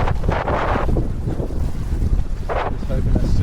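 Gusty wind buffets the microphone while windsurfing on Pittwater, roaring in strong bursts over a constant rush of air and water, with loud surges near the start and again past the midpoint.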